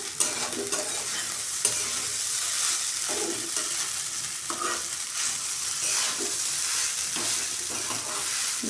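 Poha is stirred and sautéed with sugar in a pan for potato poha, a steady sizzle of frying food punctuated by scraping and stirring strokes of a spoon against the pan, close and continuous with no talking.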